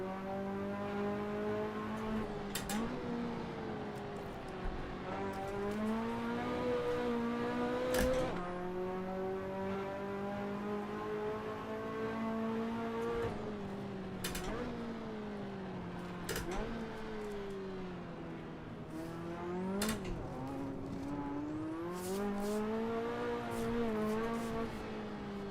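A turbocharged race car in Assetto Corsa revs and pulls through the gears, its engine note climbing repeatedly and then dropping at each shift, heard from inside the car as a steady, moderate drone.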